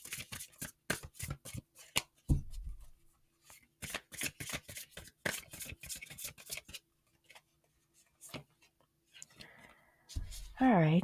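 A deck of tarot cards is shuffled in quick, crisp riffling bursts with short pauses between them, close and fairly quiet. A voice speaks briefly near the end.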